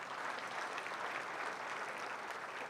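A crowd at the UNOH Centennial closing ceremonies claps for a sponsoring bank, a short, uniform burst of steady applause from many people with no break.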